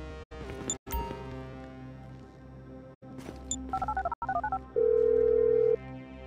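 A mobile phone in GTA 5 dialing a call: a run of short electronic key beeps, then a quick double burst of tones and a steady, loud ringing tone lasting about a second.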